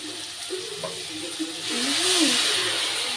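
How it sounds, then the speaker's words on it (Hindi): A sudden rising hiss and sizzle as water hits a hot pan, growing louder and steady over the last couple of seconds, under faint voices. "देखो तो टिके जस्ट पानी देकी"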